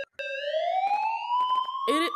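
A single siren tone played from a radio in a video game slowly sweeps upward and keeps rising, steady and fairly loud, while short bursts of voices break in over it.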